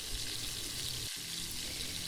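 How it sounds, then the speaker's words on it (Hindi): Onions frying in cooking oil in a pan, a steady close, bright sizzle that continues without pause. "सबसे पहले मैंने प्याज लिए हैं और उनको फ्राई करना स्टार्ट कर दिया है और मैंने इसमें 2 कुकिंग स्पून ऑयल ऐड किया है।"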